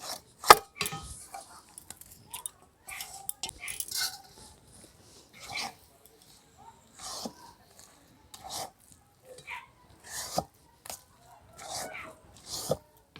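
Gourd pitha mixture being stirred nonstop in a cooking pan, giving intermittent scraping and clattering strokes at an uneven rhythm, close and moderately loud, with no talking.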